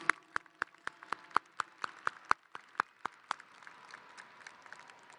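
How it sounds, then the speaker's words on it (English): At a Bowie High School graduation ceremony, applause for the parents begins as about a dozen crisp, evenly paced claps close by. It then thins into softer, scattered clapping in a large space. "Round of applause for our parents and everyone here who is here for these students."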